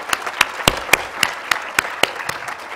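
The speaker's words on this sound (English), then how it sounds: "join me in giving them a round of applause." Sparse, scattered hand claps from a small group, sharp and separate rather than a full ovation, with no voices.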